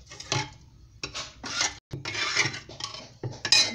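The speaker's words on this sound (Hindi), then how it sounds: "इसको थोड़ा ऐसे ऐसे चला दूंगी।" Bathua leaf dal being stirred in a metal cooking pot, several bursts of scraping and clinking of a spoon against the pot with brief pauses between strokes, close up and with no speech.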